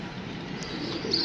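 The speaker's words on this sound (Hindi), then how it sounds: "एक कबूतर ही है देखे जी दोस्तों, वो अड्डे पे बैठा हुआ" A wild pigeon perched on a stand coos softly, a brief low call at moderate distance with faint chirps near the end.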